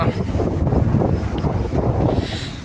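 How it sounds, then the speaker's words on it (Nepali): Strong wind blows across a bridge near a temple, rumbling and buffeting against the microphone in loud, continuous gusts with no voices. "यहाँ चाहिँ अलि हावा दामी लाग्छ"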